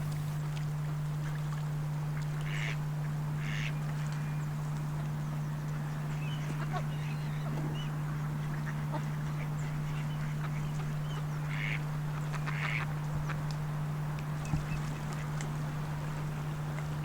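Ducks on a lake give scattered quacks at mid distance over a steady low engine-like hum, with brief calls spread throughout.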